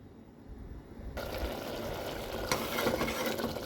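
Bottle gourd simmering in milk in a pan, a soft, steady bubbling hiss that swells partway through as stirring scrapes and clatters quietly.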